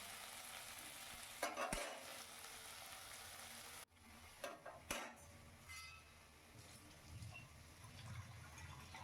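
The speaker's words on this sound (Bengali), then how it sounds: "এবারে আমি গরম তেলের মধ্যে পেঁয়াজটা ছেড়ে দিলাম। পেঁয়াজটাকে ভালো করে নাড়িয়ে চাড়িয়ে নিচ্ছি।" Onion frying in hot oil as it is stirred, a soft sizzle broken by a few sharp scrapes and clinks of a spoon against the pan, close but quiet, no talking.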